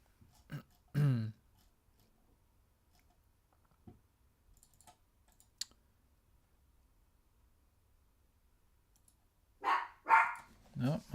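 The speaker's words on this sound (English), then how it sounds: "my dog's seen somebody outside" A dog barks at someone outside, a couple of short sharp barks early, then a louder burst of several barks near the end, fairly close indoors, with quiet clicks in between.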